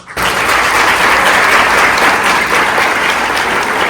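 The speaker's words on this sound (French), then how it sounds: "tout le monde qui participe dans le concours ça mérite un gros applaudissement" Loud audience applause for finalists of a text and eloquence competition, a dense, sustained wash of clapping from a large crowd that starts suddenly and holds steady.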